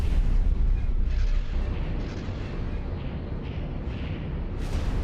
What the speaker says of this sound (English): That's what's hitting him now is EMP missiles.